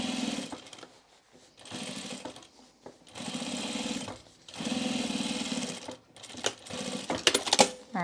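A sewing machine stitches thick overalls fabric in several short bursts of rapid mechanical chatter, with pauses and a few clicks between runs.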